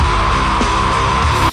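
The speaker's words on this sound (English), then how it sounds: "Death scream." A sustained, loud, distorted scream from a Skindred metal recording, held steadily over heavy instrumentation and cutting off abruptly at the end.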